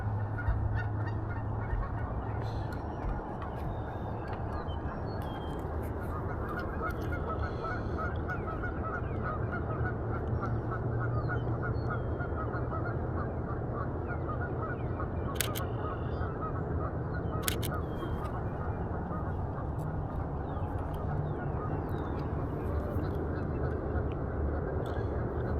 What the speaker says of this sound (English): Do you hear these geese going crazy?